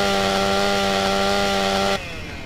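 A chainsaw in GTA: San Andreas revs loudly and steadily with a strong buzzing whine, then cuts off sharply near the end, leaving a quieter tail with no talking.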